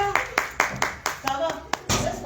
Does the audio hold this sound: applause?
yes